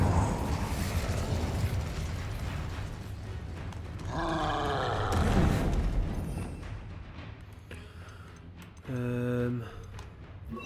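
The Incendio fire spell is cast in the video game Hogwarts Legacy, bursting out as a roaring, whooshing blast of flame that swells midway, followed by a short bright tonal chime, all set over a busy game soundscape.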